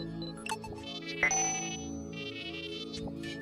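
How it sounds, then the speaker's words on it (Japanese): A bright in-game ding signals an incoming call from the Drake ship in Pikmin 3 Deluxe, its clean tone ringing out over steady background game music with no talk. "ドレイク号から着信だ。"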